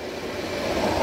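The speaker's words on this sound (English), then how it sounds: "Run some water into here" Water runs from a well pressure tank into a container, a steady broadband rushing and splashing that holds constant and swells slightly louder over about a second.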